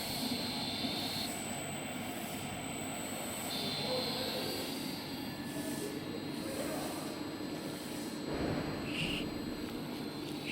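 Conventional pipe welding rotators rated for vessels up to 10,000 kg run at variable speed under pendant control, giving a steady mechanical drone with a rising and falling whine.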